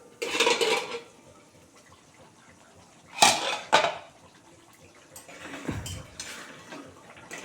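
A metal lid lifted off a cooking pot of vegetarian potato curry (aloo dum) made with yogurt and tomato: a few sharp clanks and clatters with short quiet gaps, close and fairly loud, with no talk.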